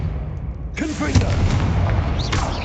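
A Confringo blasting spell bursts in Hogwarts Legacy, a sudden broadband blast with booming low rumble that swells in and sustains for a couple of seconds, with a brief pitched voice-like cry over the noisy aftermath.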